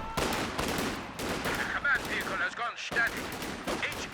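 Rifle volleys crackle continuously in a Company of Heroes 2 battle as Allied riflemen close in on Axis Fusiliers, dense overlapping shots and bursts with game effects mixed in, loud and unbroken throughout.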